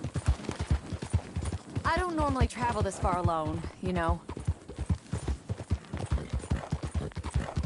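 Horse hooves clip-clopping on the move in Red Dead Redemption 2, a steady, close, rhythmic trot continuing throughout while someone talks over it.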